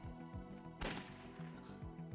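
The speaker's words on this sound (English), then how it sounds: "Another gunshot." A single sharp gunshot cracks in the horror video game Emio - The Smiling Man, cutting through a quiet, droning game soundtrack partway in, moderately loud and mid-distance.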